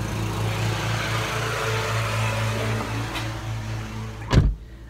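A riding lawn mower engine drones steadily at a constant pitch, ending with a brief louder burst before cutting off.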